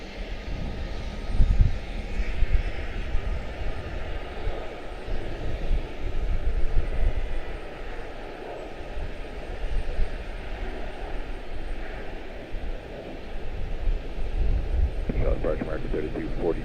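An aircraft engine roars at Charlotte-Douglas International Airport, a steady distant drone rising and falling, under ongoing talk and air traffic radio chatter.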